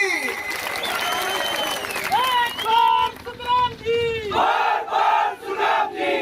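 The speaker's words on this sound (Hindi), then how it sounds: "यहाँ भीड़ भी रिकॉर्ड तोड़ है" A huge, excited crowd at a political rally roars and chants, with rising shouted cheers and bursts of applause, loud and dense throughout, while a voice speaks over it.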